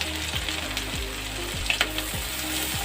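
Ginger, beans and capsicum stir-fry in a hot pan for a Chinese-style dish, giving a dense, steady sizzle. Repeated scraping strokes of a spatula sound through it, and nobody speaks.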